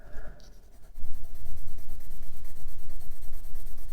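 Green pen colouring in neurographic line art on paper, a steady rhythmic scratching of strokes that starts after a brief pause and continues close up and fairly loud, with no talking.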